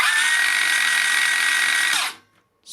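A cordless Makita 40V or HiKOKI 36V 125mm circular saw spins in silent mode at 3,500 RPM, a steady, fairly loud high whine running alone for about two seconds before it brakes and stops almost instantly.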